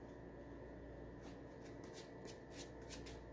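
Tarot cards being shuffled by hand, a series of soft riffling bursts in the latter half over a steady low background hum, close and fairly quiet, with no talking.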